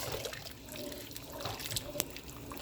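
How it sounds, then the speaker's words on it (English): Saltfish boiling in a pot, a faint gurgle of bubbling water with small drips and pops, quiet and close. "I'm just gonna allow this to just boil again for like 5 minutes to give it a little flavor"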